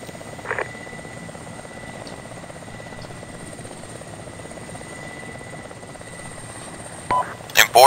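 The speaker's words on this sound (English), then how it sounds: "always keep your distance from the choppers" Military helicopter in the Arma 2 video game, a steady broadband rotor and engine drone running throughout at moderate level, with a few brief louder electronic blips and clicks near the start and end.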